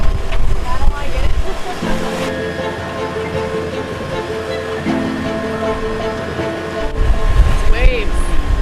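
Around a cruising sailboat, waves crash and wash loudly, easing off in the middle where a steady motor drone and tonal hum take over, then surging back near the end.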